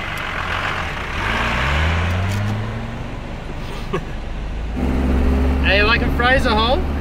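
An old Toyota 4WD engine labouring as it drives through beach sand on Fraser Island, a loud, steady drone that rises and falls, with people talking and exclaiming over it inside the vehicle.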